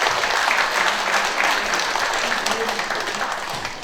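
Seated audience at a literary symposium and award ceremony gives the chairman a round of steady, full applause for several seconds, tapering slightly at the end, with a faint voice underneath.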